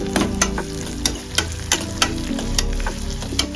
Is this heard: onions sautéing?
yes